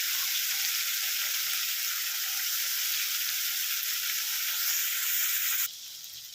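Boal fish curry with grated ginger and a splash of water frying in a pan, a steady close hiss of sizzling oil that drops in loudness near the end, no talk.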